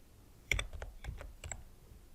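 A few quick keystrokes tapped on a computer keyboard make a short, soft burst of distinct clicks, close by and quiet, with no talking.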